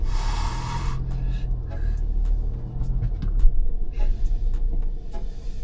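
A Toyota Land Cruiser Prado crawls off-road in low gear on a sloping, slippery track, its engine a steady low rumble close by, with a higher whine fading out after the first second and scattered knocks and crunches.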